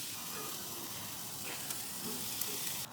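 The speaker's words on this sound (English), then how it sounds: "these need such little time for that sear because I'm placing them right over live fire" Smoked burgers searing directly over a live fire, a steady close sizzle and crackle running without a break, with no talking.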